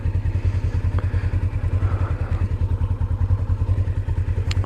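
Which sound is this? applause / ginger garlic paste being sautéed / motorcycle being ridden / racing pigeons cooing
motorcycle being ridden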